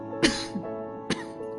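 Two short, sharp coughs, close and distinct, separated by a brief pause.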